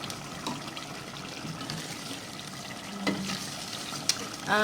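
Two torpedo scad (ikan cencaru) fry in hot oil in a pan, with a steady, close crackling sizzle throughout and a few sharper pops and stirring clinks near the end.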